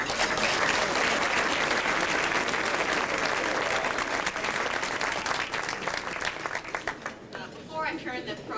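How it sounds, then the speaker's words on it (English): Audience at a scholarship gala breaks into sustained applause, dense clapping from a large crowd that holds steady then thins and fades out near the end. "Please give them a round of applause."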